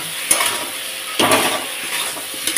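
Turmeric spice mix sautéing with taro and chhana in a pan, a soft steady sizzle broken by a few stirring scrapes and clinks, close by with no talk.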